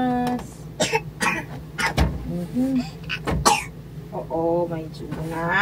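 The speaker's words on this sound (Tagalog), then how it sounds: "May ubo na ba ang baby ko na yan?" Several short, harsh coughs from a small child with a cold break up nearby chatter, with adults talking throughout.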